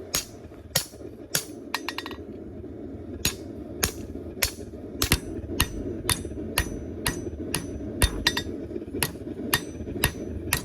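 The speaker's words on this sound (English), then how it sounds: "I can start to forge the tip back upwards to get the curve I want" Hammer blows ring sharply on a knife blade being forged, irregular strikes spaced through the stretch, some in quick bursts, close and loud over a low background hum.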